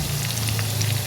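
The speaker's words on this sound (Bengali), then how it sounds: "এর মধ্যে আমি এখন পেঁয়াজ কুচিটা দিয়ে দিব। তেলটা গরম হয়ে গেছে দেখেন।" Chopped onion frying in hot oil in a wok, giving a dense, close, steady sizzle with no talk.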